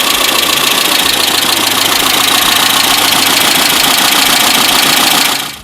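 A 1970s Japanese car's A12 1.2-liter inline-4 engine runs with a loud, close, steady mechanical drone and a fast, even rhythmic pulse that holds constant for over five seconds before cutting off abruptly.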